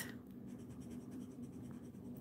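A Blick Studio brush marker, in a brown shade, scratching across paper while swatching, a faint continuous dry scraping close up with soft, even strokes.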